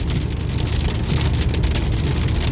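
Heavy rain drums hard and steadily on a car on Route 66 after a tornado, a dense, loud, unbroken wash of drops with no voices.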